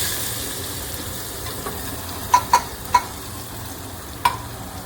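Onions frying in hot oil with mustard seeds and cumin crackle in a steady soft sizzle, with a few sharp pops and spatters standing out near the end; no voices.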